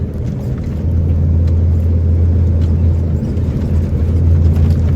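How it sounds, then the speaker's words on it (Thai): A vehicle driving along a rural border road and taking a sharp curve, heard as a loud, steady low engine and road rumble from inside, with no distinct speech. "บาวเอ็ม เข้าโค้งได้คมมากครับผม"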